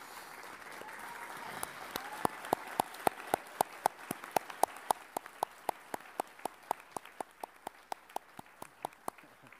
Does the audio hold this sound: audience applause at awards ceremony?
yes